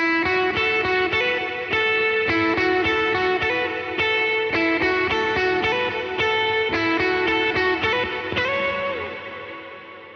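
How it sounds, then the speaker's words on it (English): Electric guitar played through a worship pedalboard with reverb, a heavier middle gain drive and delay: a sequence of sustained, driven chords and melodic notes blooming with echoing repeats, ending in a fading tail, with no talking. "I might kick on a reverb with my heavier middle gain drive, and then I got the delay on"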